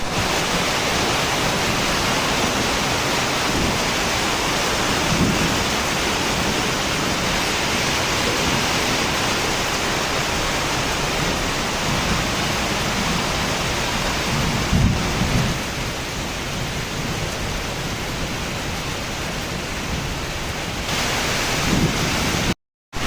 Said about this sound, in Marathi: एवढ्या कडाक्यात मस्त पाऊस येत आहे